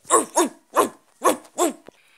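A dog barks five times in quick succession, sharp and close, with short gaps between barks.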